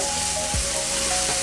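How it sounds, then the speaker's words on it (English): A large batch of chopped onions hits a hot pan for a vegetarian marinara sauce, hissing and sizzling loudly and steadily throughout, with a brief scraping stir partway through. "So now we're gonna dump all those onions. I know it's a lot of onions"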